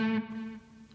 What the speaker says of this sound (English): I'm guessing this is gonna be some sort of a juicy, crunchy, cranked twin reverb sound.